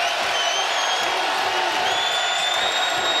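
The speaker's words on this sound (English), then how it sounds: "their crowd's starting to get into it" Arena crowd at a VCU versus Loyola Chicago college basketball semifinal, a steady, loud wash of cheering and roaring with a few shrill whistles rising above it, continuous and distant-sounding throughout.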